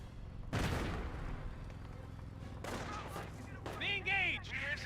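Mortar fire in Company of Heroes, a World War II strategy game: a heavy blast at the start with a rumbling tail, a second impact midway, and whistling sounds near the end, all over steady battle noise.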